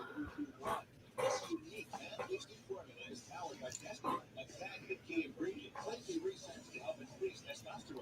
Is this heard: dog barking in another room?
yes